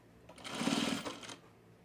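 A sewing machine stitches a seam on a fleece pullover in one steady, close burst of rapid mechanical whirring that swells and then stops.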